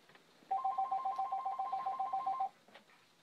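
A telephone rings once indoors, a warbling electronic trill lasting about two seconds, fairly faint and heard on its own.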